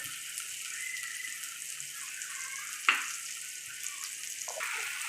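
Ginger garlic paste and chopped tomato fry in a hot pan, giving a steady soft sizzle with a faint clink near the middle.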